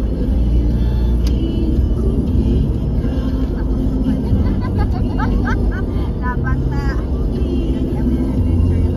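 A vehicle engine brakes on the road with a continuous loud low rumble and drone under wind noise, while people talk briefly in the background.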